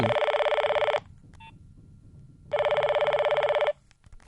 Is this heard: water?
no